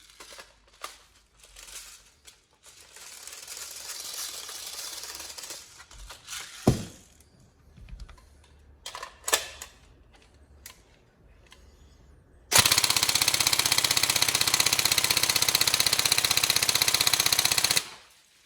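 A Tokyo Marui M4 NGRS airsoft electric gun, freshly repaired, fires a loud sustained full-auto burst of about five seconds, following quieter handling clicks and rustles.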